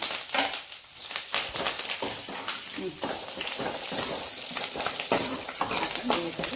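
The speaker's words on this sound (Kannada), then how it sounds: "ಸಾಸಿವೆ ಹಾಕೋಣ." Mustard seeds fry in hot oil for mango appe rasam, a busy crackling sizzle with popping bursts, close and steady, with a voice talking over parts of it.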